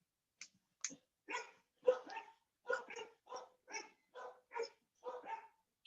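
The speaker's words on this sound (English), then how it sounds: "Ah, you have dogs, Michael." Several dogs of different breeds, a Chow Chow, a Belgian Malinois and Boston Terriers, bark in about a dozen short, sharp yaps, fairly evenly spaced and moderately close, with no talking.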